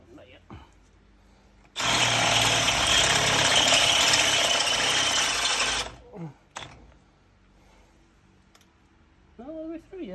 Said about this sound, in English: we will be drilling in just a few minutes